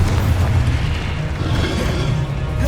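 A deep, rumbling Confringo fire-spell explosion from the video game Hogwarts Legacy, with a loud, sustained boom and no voices.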